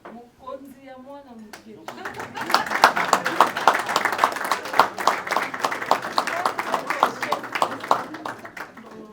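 An audience at a graduation ceremony breaks into sustained applause for a graduate, dense rapid clapping that swells and holds for several seconds, following a brief spoken line.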